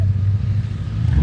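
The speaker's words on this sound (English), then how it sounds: "Oh yeah, that's an exhaust note." A classic Triumph Vitesse car passes at a car show, its exhaust giving a loud, close, deep rumbling burble that stays steady through the brief moment.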